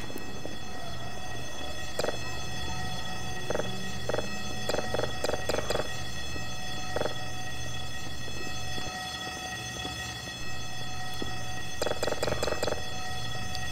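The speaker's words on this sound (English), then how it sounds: "Oh, that bloody alarm." In a Half-Life 2 Episode 2 map, a game alarm rings continuously as a loud, steady, droning tone throughout. Repeated clanking knocks and bursts come in irregular clusters over it.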